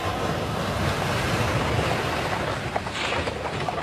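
Sea waves surge and crash continuously, a dense, steady roar of surf with wind noise and no pauses throughout.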